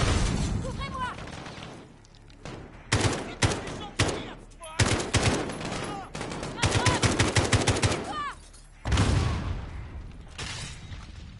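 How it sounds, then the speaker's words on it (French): Rapid gunfire exchange in the shooter game Call of Duty Modern Warfare: repeated loud volleys and automatic bursts from both sides, broken by brief lulls, with background game noise between the shots. "je leur tire dessus, ils me tirent dessus en retour"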